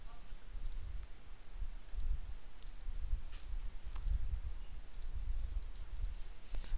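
Computer mouse clicking through questions in an online exam, about a dozen sharp, close clicks spaced irregularly over a low room hum, with no talking.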